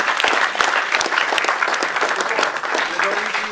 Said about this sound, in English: And there's another round of applause.